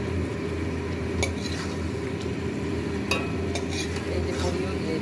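Potato and cauliflower curry with small lentil badi sautéed in a pan gives a steady low sizzle, with a few sharp spoon-on-pan scrapes and clinks now and then.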